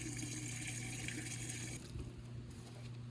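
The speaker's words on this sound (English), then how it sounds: "So now we're going to finish filling her up with water, about 3/4 way up." Water pours into the sand filter tank of an Intex SX sand filter pump for an above-ground pool, a steady close gushing fill that shifts to a deeper, more muffled splash as the level rises.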